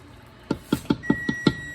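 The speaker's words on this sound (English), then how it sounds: "There's the timer done." A kitchen timer goes off while holiday candy is being made, giving six short, evenly spaced beeps over about a second, moderately loud and clear against a quiet room.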